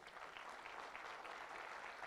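A concert audience gives steady, even applause to welcome a sitar maestro onto the stage, heard faint and distant without any speech.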